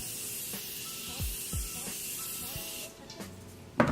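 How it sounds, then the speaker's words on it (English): Makeup setting spray mists onto a face in several short, sharp hissing bursts over a soft background hiss, close and fairly quiet. "I like to set it with actually a setting spray"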